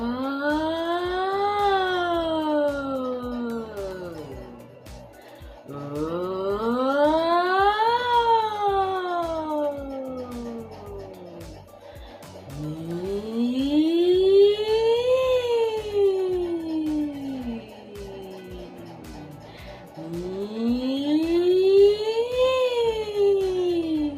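A voice imitates an ambulance siren, gliding smoothly up and back down in four long, slow sweeps with brief pauses between them.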